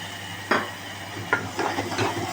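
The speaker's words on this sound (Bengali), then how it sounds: "টমেটো কিছুক্ষণ আমি একটু নাড়াচাড়া করে নেবো ভালো করে" A spoon stirs tomato paste into fried onions in a pan, making a few distinct scraping knocks against the metal over a soft background sizzle, close and without talk.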